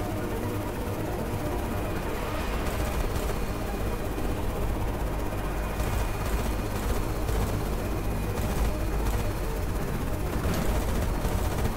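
Gunfire in the Carrier Command 2 video game, a dense, continuous roar of engine drone and crackling shots, steady and loud throughout, with faint bursts of impact noise toward the end.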